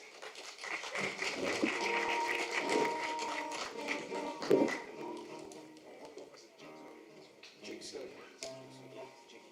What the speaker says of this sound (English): Big welcome and a round of applause for Mr.